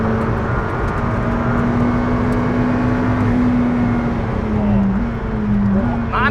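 A McLaren Senna accelerates hard along a race track's home straight, its engine loud and close from inside the car with a steadily rising drone that briefly drops at a gear change, then climbs again.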